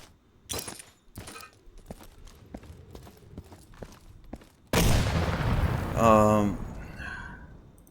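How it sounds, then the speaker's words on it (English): A grenade explodes in the Insurgency video game after scattered in-game clicks and footsteps: a sudden loud, broad blast with a rumbling tail, and a player's voice speaks over it. "Roll a grenade under that wooden fence."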